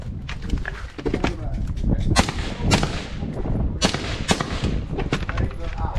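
Carbine and pistol fire during a transition drill on a training range, with a rapid series of sharp, loud shots in close succession and voices audible between them.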